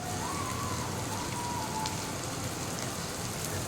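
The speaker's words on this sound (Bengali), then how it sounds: "কাঁচা লঙ্কা দিয়ে খুব ভালো করে ভেজে নিতে হবে" Green chilies and tomato frying in a pan give a dense, even sizzle that holds steady all the way through, close and fairly loud, with a faint whistling tone briefly above it and no voices.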